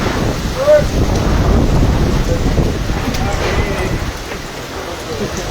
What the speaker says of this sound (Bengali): খুব বৃষ্টি হচ্ছে ঝড় হচ্ছে